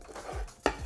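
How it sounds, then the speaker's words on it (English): A knife chopping shrimp on a cutting board, two or three soft thuds and a sharper knock, close up, in a quiet kitchen. "We'll finish cutting all the shrimp."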